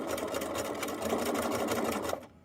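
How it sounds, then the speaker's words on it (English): A sewing machine runs a steady, close run of tiny reinforcement stitches across webbing for about two seconds, then stops and falls almost silent. "And I'll just sew along using my tiny little reinforcement stitch."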